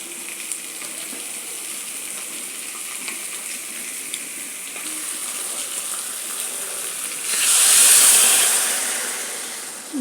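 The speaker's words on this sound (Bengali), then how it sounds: "গরম জলটা এবার অ্যাড করে দেবো।" Meat curry sizzles steadily in a pan, then hot water is poured in near the end, a loud rushing gush and hiss that swells for a couple of seconds before easing off.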